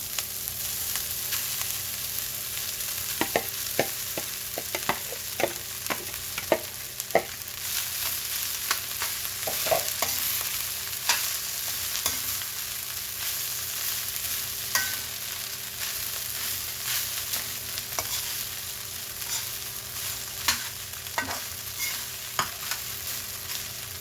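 Rice for sinangag, Filipino fried rice, stir-fried in a pan: a continuous close sizzle with a scatter of sharp spatula scrapes and taps throughout, no one speaking.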